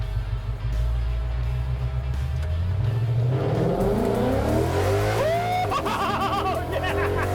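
A Ford F100 pickup with a Coyote V8 revs hard and accelerates on the road, roaring loud and close as the engine climbs through the gears, with some tire squeal.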